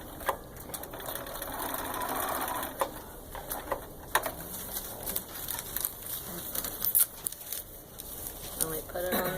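A sewing machine stitches through quilt fabric at a quilting retreat, a soft, uneven mechanical whir in short runs of stitches, heard under someone talking and faint room noise.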